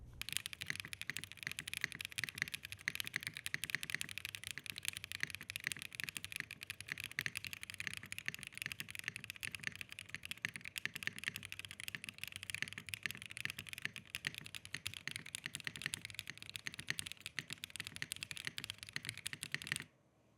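Steady, dense typing on a Bridge75 75% mechanical keyboard with no foam inside and tape modding on the PCB cuts gives a continuous run of dull, muted keystrokes at close range for about twenty seconds, then stops.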